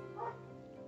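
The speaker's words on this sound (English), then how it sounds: "Excuse the dogs, the sheep are in the backfield, and I decided to bark at them." A dog's short bark or yelp, faint and somewhat distant indoors, aimed at sheep in a field behind the house; a single brief call over a low steady background hum.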